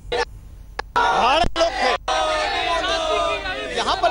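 A large crowd gathers in a Lucknow street ahead of Prime Minister Modi's roadshow, its loud, continuous babble of voices filling the air with scattered shouts, broken by a few abrupt dropouts.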